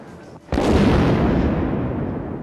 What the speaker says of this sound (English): The hostage rescue team planned to blow open one of the doors with a huge explosion.